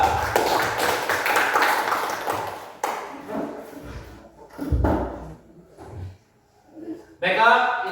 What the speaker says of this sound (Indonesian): Baik, kita beri aplaus kepada kelompok 3.